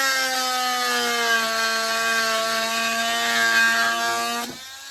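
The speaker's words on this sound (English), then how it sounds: "Let's see if we can cut those off with the MultiTool." Oscillating multitool cutting off screws sticking out of wood, a loud steady high-pitched buzzing whine held close for several seconds before cutting off abruptly.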